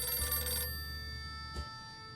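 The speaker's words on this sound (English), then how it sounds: "Phone's ringing." A telephone rings in the video game 60 Seconds! Reatomized, a bright electronic bell burst followed by a second short ring, close and clear over a low steady hum.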